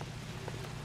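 Steady rain hiss in the 1940s Los Angeles streets of the video game L.A. Noire, a continuous close wash of falling water with no voices over it.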